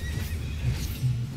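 A horse neighs in the online game Final Fantasy XIV, a loud, close whinny lasting just over a second with faint hoof clip-clop beneath it, no talking.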